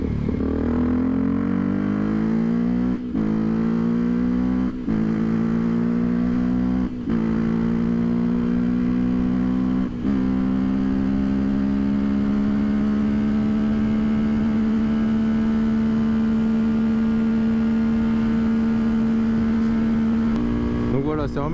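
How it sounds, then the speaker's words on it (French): Motorcycle with the exhaust baffle removed, a loud steady engine drone close by that rises slightly in pitch, broken by brief dips, while someone talks over it. "c'est normal si vous entendez un peu plus le son de la moto maintenant"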